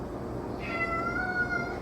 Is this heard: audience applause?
no